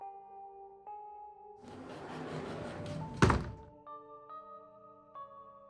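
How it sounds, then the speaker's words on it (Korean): A door slams shut with one sharp, loud thud in a quiet indoor setting, standing out between soft sustained musical tones and a brief wash of hiss. "갑자기 문이 탁 닫히는 소리에 정신을 차려보니"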